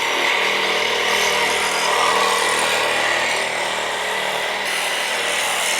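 Cordless reciprocating saw cutting through the rear suspension of a worn-out Subaru, a loud continuous rasping buzz of the blade biting metal, steady and close for several seconds with no talk.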